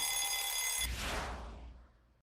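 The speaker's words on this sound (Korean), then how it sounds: "휴대전화 알람에 알람 시계에." A shrill electronic phone alarm beeps steadily, then gives way to a brassy alarm clock bell ringing loudly before fading out.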